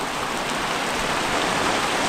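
Heavy monsoon downpour in rural Konkan falls as a dense, loud, unbroken hiss of rain drumming on surfaces, steady throughout with no voices.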